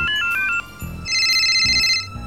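A phone ringtone plays in short melodic bursts, then a sustained electronic ring tone, with low thumping sounds between, loud and close, as a boy calls a friend named Rina.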